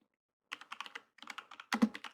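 Typing on a computer keyboard, a close, quick run of distinct key clicks in two bursts with a short pause between them and a heavier final flurry of strokes.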